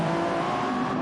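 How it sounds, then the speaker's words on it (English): Race car tyres squealing in Gran Turismo 7 during a Le Mans 24h pre-qualifying race, a sustained high tonal screech blended with steady engine roar, loud and continuous throughout. "I heard the tyres."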